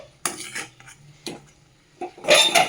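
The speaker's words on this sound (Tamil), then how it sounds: "இது மாதிரி நல்லா கிளறி விட்டுக்கோங்க." A thick crushed barfi mixture is stirred in a pan, giving three or four close metallic scrapes and clinks of a spoon against the pan, separated by short quiet gaps.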